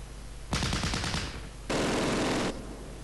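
Machine gun fire from the video game Close Combat: Last Stand Arnhem, two loud bursts of rapid gunfire, the first a rattling string of shots, the second a dense sustained roar, with a steady background bed between.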